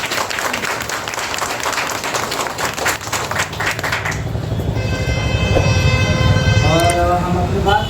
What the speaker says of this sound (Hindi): आप अपने लिए जबरदस्त ताली बजाइए